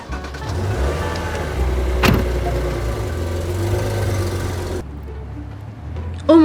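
Maserati car engine running, a low steady hum from inside the cabin with a sharp click partway through, then the sound drops and grows quieter before a short rise at the end.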